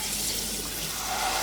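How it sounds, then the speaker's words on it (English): Hot chicken broth and beef broth poured into a pot for poutine, a steady liquid splash and trickle that is close and continuous, heard alone without talk. "Now we're going to be adding chicken broth first and then the beef broth."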